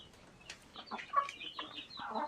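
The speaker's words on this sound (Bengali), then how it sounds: "সাদা একটি মুরগির সাথে অনেকগুলো বাচ্চা আছে" A native white hen and her many chicks on a small Bangladeshi farm make soft, scattered clucks and chirps. The calls are close and fairly faint, with several short bursts over about two seconds and no talking.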